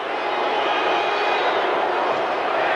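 A huge playoff basketball crowd fills the Pontiac Silverdome with a steady, loud roar that holds without a break.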